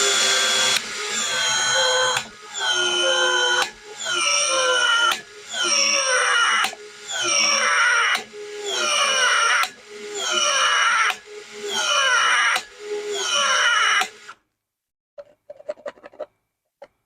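DeWalt PEX expansion tool working on 1.5-inch PEX pipe: about seven loud mechanical whirring bursts in a regular rhythm, each about a second and a half with short gaps, close by, then quiet with a few faint clicks.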